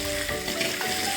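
Eggs fry in oil with chili powder, salt and turmeric, giving a dense, loud, continuous sizzle heard close up in a brief burst with no voices.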